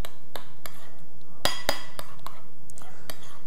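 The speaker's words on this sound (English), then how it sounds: "And before I put in the pecans, I'll just give this a little stir." A spoon stirs oatmeal with cinnamon in a pot, giving a series of sharp metallic clinks and scrapes, irregular and close, with two louder knocks in the middle.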